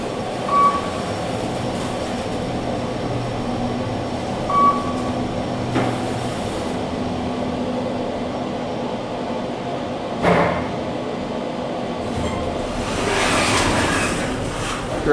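A KONE EcoSpace traction elevator with KSS 370 fixtures in a parking garage runs with a steady low hum, with a few faint chimes and door movement sounds, including a sliding door near the end.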